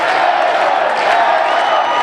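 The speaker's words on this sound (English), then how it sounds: "And now the crowd will chant, Taylor," A raucous baseball stadium crowd roars steadily at a game, a loud, unbroken wash of many voices that would carry a name chant, with no separate clear speech.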